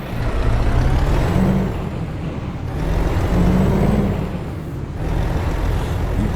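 A Volvo truck with a 450 horsepower engine in American Truck Simulator drones along loudly and steadily, its low rumble gently rising and falling as it drives, with no talking.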